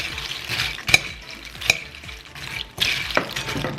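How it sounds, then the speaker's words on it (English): Chex Mix coated in a butter mixture and sprinkled with furikake, tossed in a bowl or pan, giving a dry rattling, shuffling rustle with a few sharper clicks, close up and with no talking. "we're just gonna toss it. We wanna make sure that every piece gets coated with our butter mixture."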